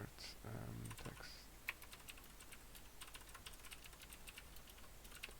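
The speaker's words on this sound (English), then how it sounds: "I don't know why I keep typing the same thing on and on and on." Rapid typing on a computer keyboard during a coding session, with dense irregular key clicks running throughout, fairly close and clear, and a brief voice-like sound near the start.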